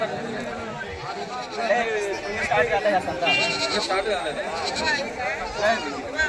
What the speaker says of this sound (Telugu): కొడేళ్ళు వస్తాయి మేకలు వస్తాయి